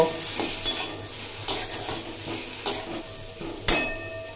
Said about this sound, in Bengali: ধনের গুঁড়ো, আর একদম সামান্য পরিমাণে কাশ্মীরি লঙ্কার গুঁড়ো দিয়ে অল্প নাড়াচাড়া করে নেব।